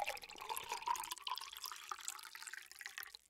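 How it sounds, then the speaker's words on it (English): Water poured in a thin steady stream into a vessel, a soft close trickle with a rising pitch as it fills, quiet and alone. "Or maybe even just pour water."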